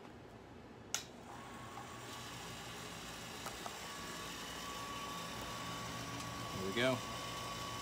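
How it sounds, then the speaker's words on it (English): A pump runs to whirlpool hot wort after flame-out in an all-grain pale ale brew, giving a steady, quiet hum with a click near the start. Someone speaks briefly. "I'm gonna start up the pump to get the whirlpool going"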